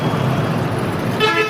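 Heavy road traffic in Morbi, with an engine rumble and the hum of passing vehicles, then a car horn honking near the end, fairly close and loud.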